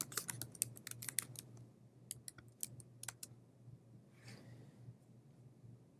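Quick bursts of keys tapped on a computer keyboard, clustered at the start and again midway, soft and close over a low background hum, with no talk.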